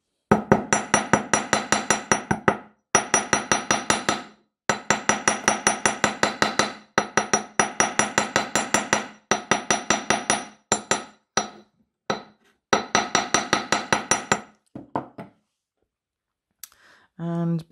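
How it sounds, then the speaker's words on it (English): Steel hammer striking a coiled wire spiral for a wirework rose necklace, delivering long runs of rapid, evenly spaced metallic taps in bursts separated by short pauses, close and loud, ending with a brief quiet stretch. "Just going to hammer again."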